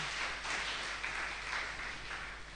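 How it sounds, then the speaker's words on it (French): A church congregation claps along in a rhythmic, steady pulse of handclaps, moderately distant and somewhat diffuse in a reverberant hall. "Tobeti maboko."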